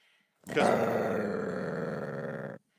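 A human voice imitates a cougar, giving a single close, gravelly growl that swells quickly and holds for about two seconds before stopping abruptly against near silence.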